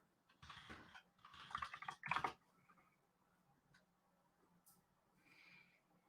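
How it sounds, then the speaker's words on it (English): Clicky keystrokes on a mechanical computer keyboard, a few short bursts of typing close to the mic in a quiet room, then fading to sparse taps and low hum. "my mechanical keyboard proves that we're doing this in real time"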